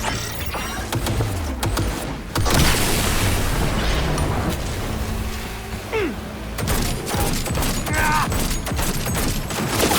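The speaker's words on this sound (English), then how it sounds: "Firing at close range!" Close-range gunfire in the video game Cyberpunk 2077, loud and sustained, with dense bursts and booms that swell mid-clip and continue alongside heavy battle noise.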